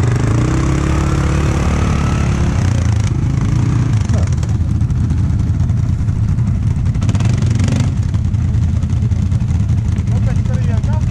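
A motorcycle engine runs loudly at close range, its throttle held steady with a few shifts in pitch, and voices can be heard beneath it.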